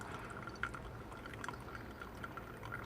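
Water pours in a thin, steady stream over coffee grounds for a pour-over brew, with light trickling and a few soft drips, quiet and close, with no talking.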